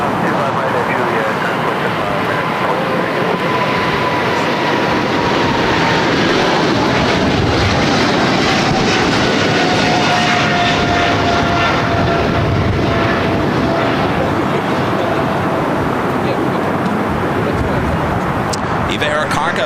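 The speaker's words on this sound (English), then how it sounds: "The 777 freighter taking off 25 left, heading to Taipei, flight 609." A Boeing 777 freighter takes off from runway 25 left at LAX, its jet engines producing a loud, continuous roar that fills the whole stretch, heard from nearby.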